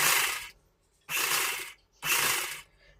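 A sewing machine stitches folded fabric down onto canvas in three loud, close bursts of whirring, each about half a second long and separated by short pauses, with no talking.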